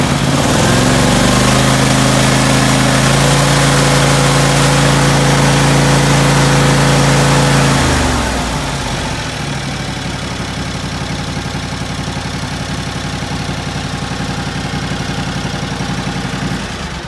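A John Deere LX277 lawn tractor engine runs after a cold start on a January day, loud and close with a throbbing hum, then settles to a quieter, steady idle partway through.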